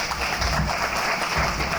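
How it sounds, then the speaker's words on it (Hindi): A brief, loud burst of audience applause for two speakers at a televised college event, many hands clapping at once with no voices over it. "ज़ोरदार तालियां हमारे दोनों ही स्पीकर्स के लिए।"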